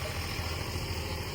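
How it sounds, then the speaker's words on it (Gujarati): A tractor engine running in a village: a steady low engine rumble and vibration, moderately faint and unbroken through the short stretch. "આ ટ્રેક્ટર બહુ અવાજ કરો છો"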